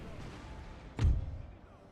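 Cannon fire from artillery in the Total War: Napoleon video game, Italy campaign battle: a single loud booming shot with a low rumbling tail, rising above a steady background of battle noise.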